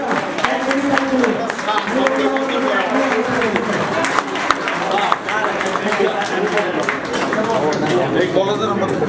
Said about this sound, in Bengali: সবাই সবার সাথে এক মিনিট তালি হয়, 1 মিনিট